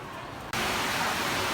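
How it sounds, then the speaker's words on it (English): Heavy, steady rain hiss starts abruptly on a Ho Chi Minh City street near Ben Thanh Market at night, continuing as a dense, even wash of noise, loud and close. "It started to rain heavily. You guys hear it?"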